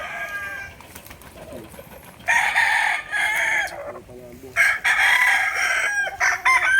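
Several fighting roosters crow nearby in overlapping calls on a small backyard farm in Ternate, with chickens clucking softly between them.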